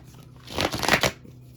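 A deck of playing cards being shuffled close by, a riffling burst of rapid papery flutter lasting about half a second, with no voices.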